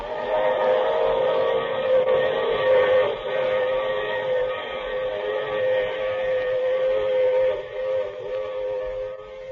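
Train sound effect from an old radio drama, a continuous rumbling run with whistle-like tonal wails rising and fading, loud and alone for nearly ten seconds.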